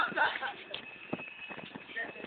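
An ox runs into a yard, its hooves clattering in quick, uneven knocks close by. Excited human voices shout over the hoofbeats.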